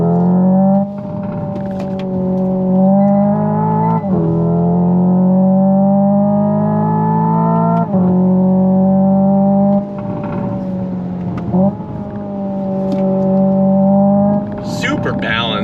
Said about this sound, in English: let's go on throttle again and see if I can get past all this